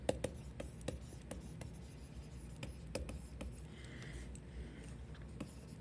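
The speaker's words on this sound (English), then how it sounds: "I'm just going to write out what I said, just getting to this point here." Pen writing out a chemistry answer about indicators, heard as soft, close scratching strokes with light taps, quiet and steady with no talk.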